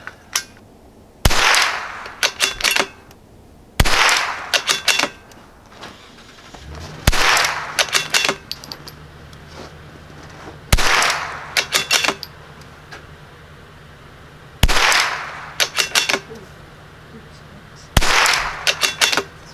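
Savage B22 precision rifle firing Winchester Wildcat .22 ammunition, six sharp loud shots spaced a few seconds apart, each trailed by brief echoing clatter, with quiet background between.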